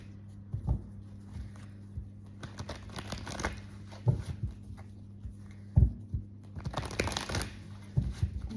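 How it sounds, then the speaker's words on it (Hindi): Tarot cards are shuffled and handled in soft, irregular bursts of riffling and tapping over a low steady hum, close by, with no voices. "So let's clarify these cards."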